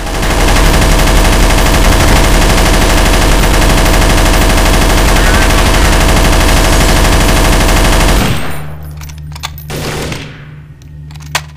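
Sustained automatic gunfire from Counter-Strike: Source rattles loudly and nonstop for about eight seconds, then cuts to quieter game ambience with a couple of sharp clicks.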